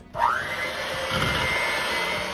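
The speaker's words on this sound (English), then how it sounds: "I'm going to mix it and make it nice and creamy with my electric mixer" An electric mixer whipping firm cranberry jello spins up quickly to a loud, steady whine and runs continuously without a break, with no voices.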